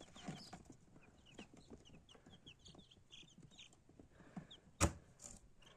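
Young chicks, a few with small crests, chirp over and over in high, thin peeps close by, with a single sharp knock near the end.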